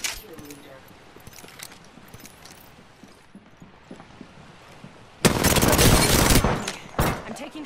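Video game gunfire in a ranked match, with sparse clicks and shots over a quiet stretch, then a sudden loud burst of rapid automatic fire that hammers on for about two seconds before breaking into a few more close shots.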